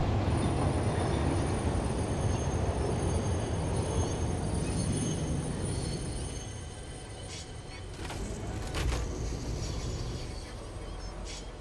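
Train ride in the factory-building game Satisfactory, a steady rumbling roll of rail wheels with faint squeals, easing slightly midway then swelling again, continuous throughout.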